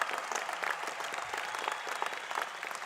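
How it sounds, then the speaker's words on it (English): Audience applause fills a college commencement ceremony, a steady wash of many hands clapping for military veterans among the graduates, continuous and fairly loud throughout. "Let's give them a huge round of applause for their service to our country."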